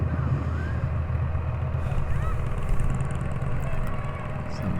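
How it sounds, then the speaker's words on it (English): A Harley motorcycle engine rumbling as it drives past on a road, a steady low drone at moderate distance with no talk. "So that's the Harley driving by"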